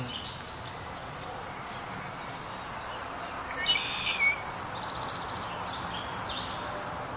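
A stone curlew in a Spanish wetland gives a couple of short, whistling calls in quick succession midway through, faint and distant over a steady wash of background noise.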